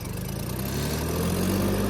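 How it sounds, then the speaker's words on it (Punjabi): A tractor engine runs steadily while driving a mini rotavator in a field, a continuous low mechanical drone that holds even and close throughout, with no voices. "ਚੱਲ ਰਿਹਾ ਟਰੈਕਟਰ ਆਰਾਮ ਨਾਲ ਬਿਲਕੁਲ"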